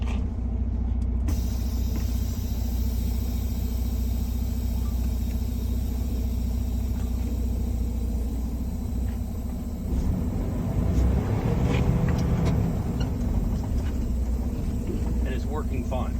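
A truck driving slowly during an in-cab brake test, its engine rumbling steadily and close throughout, with a brief rise in mechanical noise and rattling toward the end.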